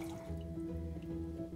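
Water drips and trickles as rice is rinsed in a kitchen, a brief close sound of small liquid splashes over a faint steady hum.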